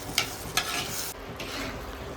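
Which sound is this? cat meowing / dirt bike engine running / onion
onion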